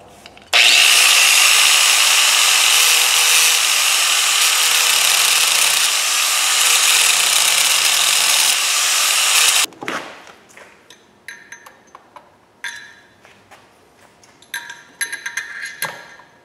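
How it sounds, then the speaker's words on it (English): A loud power tool cuts the end off a rivet on a 1929 AV8 coupe in one steady, harsh burst of about nine seconds, then stops, followed by scattered light clinks and scrapes. "I'll just cut that end off and then drive it out from the other side."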